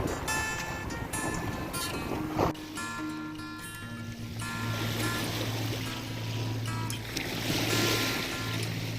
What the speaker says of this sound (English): the noise of the waves